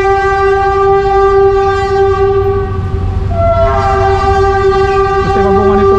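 Train rolling through a tunnel toward Tutuban near Tomas Claudio Street, a loud, close, reverberant rumble with a long sustained horn blast over it and a brief change in tone near the end.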